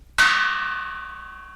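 One bright metallic chime struck once, ringing out clearly and fading slowly over a second and a half.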